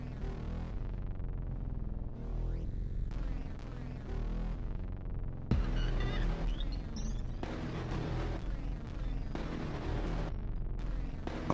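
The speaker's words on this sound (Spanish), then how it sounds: "Las minas marinas combinadas a los bombarderos creaban un estruendo que fácilmente destrozarían los tímpanos de cualquier persona." Booming explosions of naval mines and aerial bombing rumble in dense, continuous layers with sharp bursts, loud and sustained without a break.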